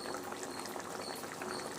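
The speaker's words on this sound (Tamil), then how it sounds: "தேவையான அளவு புளி தண்ணியும் அதுக்கு தேவையான அளவு தண்ணியும் சேர்த்து நல்லா கொதிக்க விடுங்க" Okra kara kuzhambu with tamarind water boiling in a pot, a steady close bubbling and popping with no talk.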